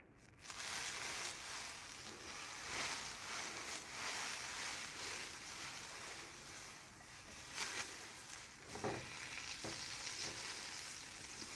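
Butter sizzling softly in a pan over low heat before banana pancake batter goes in, a steady faint crackle with a few brief louder spits and no talking.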